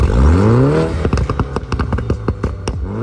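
A car engine revs up and settles into a lumpy, rhythmic idle with distinct clattering firing pulses, loud and close.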